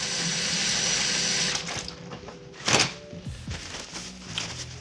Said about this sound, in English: I'm gonna wash my hands quickly.